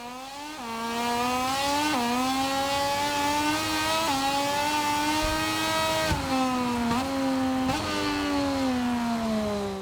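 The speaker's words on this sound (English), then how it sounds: "Trying to just forcefully push him wide there a little bit just so we can get in the slipstream of Roberts" MotoGP racing motorcycles in a video game, high-pitched engines whining loudly and continuously, pitch dipping and climbing with repeated gear shifts and throttle changes as bikes race closely together.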